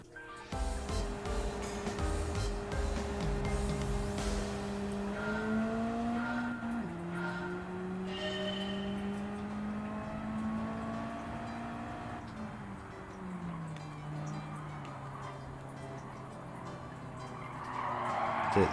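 A Nissan Silvia Q's race car engine in Gran Turismo 7, revving loudly through steady rising and falling tones with gear changes, with tire squeal and skidding mixed in throughout, close and continuous.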